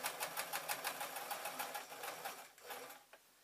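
A sewing machine stitches a tote bag in a steady, fast rhythmic chatter, close and clear, running for about three seconds before slowing and stopping.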